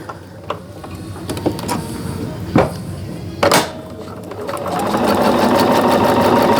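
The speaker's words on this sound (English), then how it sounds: "Okay, let's sew those together." A sewing machine stitches pieces of an economy quilt block together. A few sharp clicks come first, then a steady, close mechanical whir builds and runs continuously to the end.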